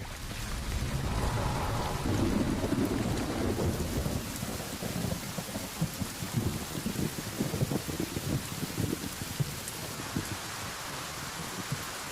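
Heavy rain pours steadily on grassland while deep thunder rumbles and rolls, strongest early on, then fades into a dense rain wash.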